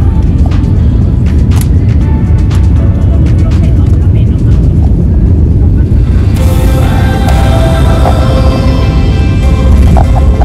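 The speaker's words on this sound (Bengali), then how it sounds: "এখন আমাদের ফ্লাইট লিমা ইন্টারন্যাশনাল এয়ারপোর্টে ল্যান্ড করতে চলেছে।" LATAM Airlines airliner landing at Lima International Airport on a flight from Santiago, a loud steady cabin roar throughout, with a harsher rush of noise rising in the last few seconds as the aircraft touches down.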